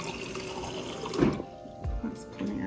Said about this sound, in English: I'm just gonna fill this up with filtered water.